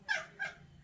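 A cat gives two short, fairly loud cries close by, the first about half a second before the second, then only quiet room noise.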